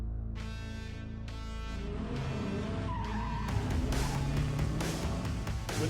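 A car drifts at Summernats, its tyres squealing in long, loud, overlapping screeches against a revving engine roar that builds and grows harsher toward the end.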